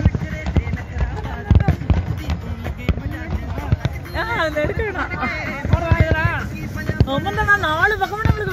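New Year fireworks over the Burj Khalifa pop and crack repeatedly at a distance, thudding beneath continuous nearby chatter and wind noise.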